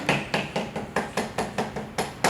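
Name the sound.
light tapping a seal into place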